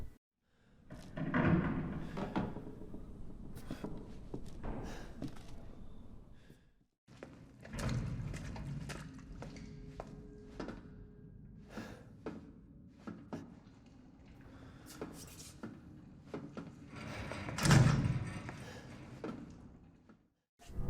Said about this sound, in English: the constant sounds of every environment, be it creaking wood or banging metal, keeps the player on edge